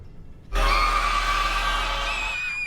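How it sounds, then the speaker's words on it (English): Ghostly woman's long, raw, guttural scream from a horror TV series, loud and sustained for about two seconds, rising abruptly out of quiet and alone without talk. "the woman standing right before her lets out this guttural scream"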